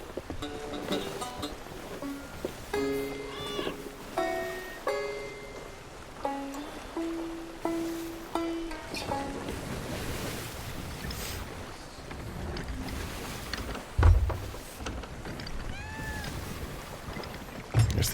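A cat meows repeatedly in a video game with a sailing ship, a series of short, tonal mews over steady wind and water ambience, with other scattered game sounds later on.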